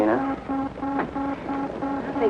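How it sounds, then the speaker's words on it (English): A repeating electronic signal tone aboard a spaceship in a 1954 sci-fi serial, a steady pulsing beep in regular bursts about twice a second, fairly loud and alone. "that noise is our blastoff synchronizer"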